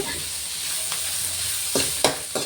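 Bitter gourd stir-fried in oil until crisp, giving a steady close sizzle and fry hiss with a few sharp stirring scrapes and crackles near the end.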